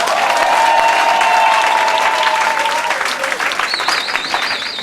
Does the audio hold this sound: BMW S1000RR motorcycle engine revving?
no